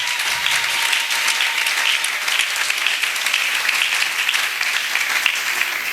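A church congregation bursts into sustained, dense applause, many hands clapping steadily at close range with no voices over it.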